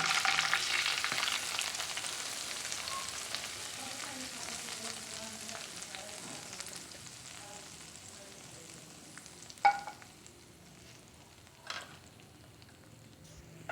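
Steady hiss of spices tempering in hot oil for kadhi pakora, sizzling continuously, with a couple of sharp clinks of a utensil near the end.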